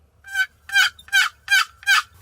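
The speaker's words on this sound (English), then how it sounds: "Hearing a hen coming into my call certainly got me excited." Wild hen turkey calling: five evenly spaced, clear yelps, fairly close and loud, with a faint low background hum and no talking.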